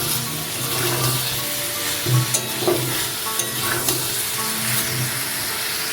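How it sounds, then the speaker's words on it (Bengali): Papaya, potato and prawns being sautéed with spices in a pan for a prawn and papaya curry, a steady sizzle with scraping stir strokes and a few louder clanks, no talking. "সব কিছু মশলার সাথে ভালো করে কষিয়ে নেব।"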